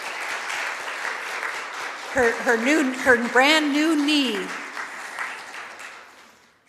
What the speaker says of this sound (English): Let's hear a little clap